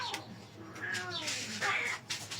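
Cats fight nearby with drawn-out, rising and falling yowls and meows that come in bursts over a couple of seconds, loud and close.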